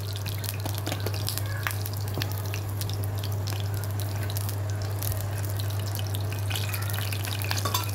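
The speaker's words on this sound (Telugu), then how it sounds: "తుళ్ళుతుందండి, మూత పెట్టుకుందాము." Steady crackling and popping of fenugreek and cumin seeds spattering in hot oil, with scattered sharp pops over a constant low hum, close and continuous.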